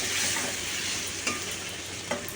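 Chili powder masala being stir-fried in hot oil for a Katla fish-head and cabbage dish, giving a steady close sizzle with a couple of soft scraping stirs and no talk.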